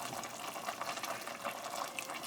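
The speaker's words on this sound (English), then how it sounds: "I think I've got this down to a boil" A pot of collard and mustard greens boils on a stovetop over medium-low heat, giving a faint, steady bubbling and watery rush with no talking.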